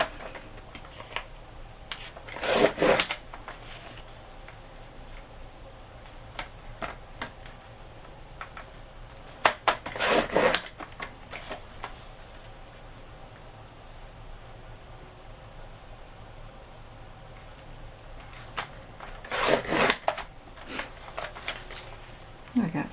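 Several inch-wide strips of material are cut for a shabby rose journal, heard as three separate bursts of crisp cutting and rustling spaced far apart, with quiet room noise between.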